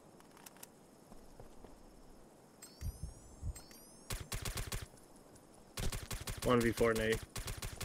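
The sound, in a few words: gunfire in video game Socom 2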